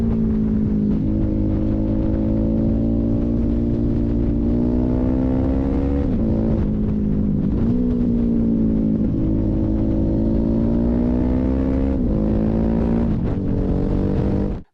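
A 2005 Suzuki DL1000 V-Strom motorcycle engine pulls hard at high speed, a loud continuous drone that climbs in pitch through each gear and briefly drops at a few shifts, with no talking.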